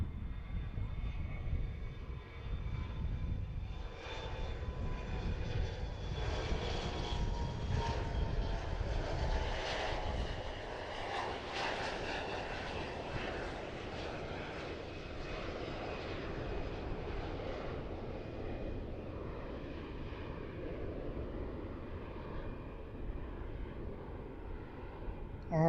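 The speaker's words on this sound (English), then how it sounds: "Here comes Delta. Finally taking off." A Delta jet airliner takes off at a busy airport, its broad engine roar steady and fairly loud throughout, with a brief voice in the background.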